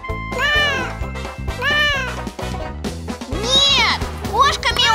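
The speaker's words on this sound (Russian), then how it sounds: "кошка мяукает" A cartoon sound book plays a cat meowing, several loud, close meows in a row, some drawn out and rising, with no other sounds between them.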